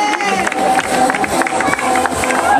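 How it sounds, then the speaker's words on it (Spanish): A crowd at a memorial race finish applauds and cheers steadily for arriving runners, a dense continuous wash of clapping and voices with a faint whistle or tone running through it. "Venga, un aplauso para todos."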